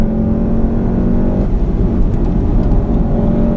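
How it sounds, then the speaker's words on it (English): A 2015 VW Golf R engine held high in the rev range on a winding canyon road gives a loud, steady drone, a brief dip around a gear change midway, then continued high revving with road noise. "I'm keeping it way at the top of the power band."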